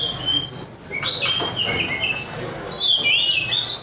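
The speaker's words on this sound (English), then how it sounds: "I'm actually here to see singing magpies." Trained magpies sing in a series of clear, high whistled phrases and chirps, fairly close and loud over low background murmur and occasional faint voices.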